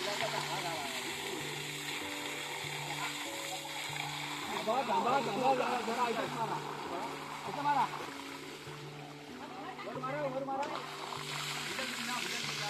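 Water splashes and streams over a pump just pulled out of a well during well cleaning, a steady wet spattering that swells and fades while people talk close by.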